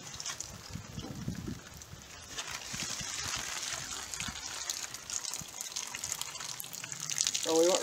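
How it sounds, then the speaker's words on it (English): Water leaks and trickles from a water jug pierced by a .38 Special bullet during ballistic testing, an uneven splashing gush with faint background noise throughout. "Jug 6 is leaking."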